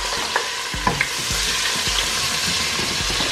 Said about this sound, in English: I'm adding my onion, my diced onion.